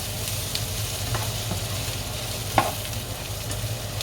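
Potatoes being tossed in a pan with bacon and onion, a steady close sizzle over a low hum, with light stirring scrapes and one sharper clack midway.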